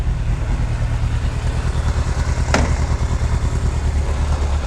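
A 1998 Yamaha YZF600R Thundercat motorcycle engine runs steadily and loudly up close during gear shifting, a constant low rumble with one sharp click partway through.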